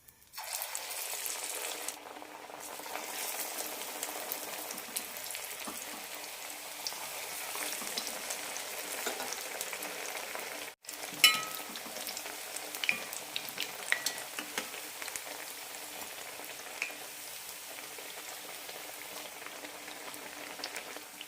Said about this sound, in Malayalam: ഉള്ളിലൊക്കെ നന്നായി വെന്ത് കിട്ടാൻ മീഡിയം ഫ്ലെയിമിലിട്ട് വറുത്തെടുക്കാം